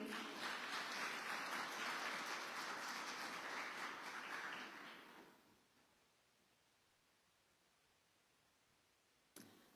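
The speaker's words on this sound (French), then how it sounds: "On l'applaudit, s'il vous plaît." Applause from an audience at an awards ceremony for laureates in Petit-Canal, a steady round of clapping for about five seconds that fades out quickly into near silence, with a brief click near the end.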